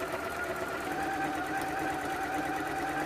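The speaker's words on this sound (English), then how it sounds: "I'm just going to sew it all the way around." A sewing machine runs steadily through fabric for an advent calendar, a continuous close whirring hum with no pauses or talking.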